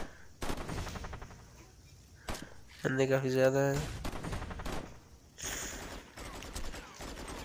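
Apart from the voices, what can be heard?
MP5 gunfire in Wheelman video game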